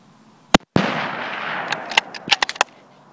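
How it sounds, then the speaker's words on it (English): A 6.5 Creedmoor rifle shot at a raccoon during a night hunt: a sharp loud crack followed by a second blast with a rolling echo, then several scattered sharp pops fading out. "finally one came out that I decided to shoot"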